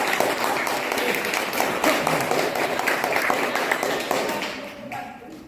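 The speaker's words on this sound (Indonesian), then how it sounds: "kasih tepuk tangan" Classroom applause from high school students at SMA Negeri 1 Pematang Bandar rewarding a group's correct answer, a dense steady patter of many clapping hands that fades out near the end.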